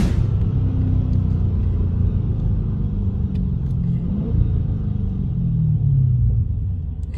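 A newly bought car's engine rumbles steadily up close, a deep continuous drone with a slight swell in pitch near the end.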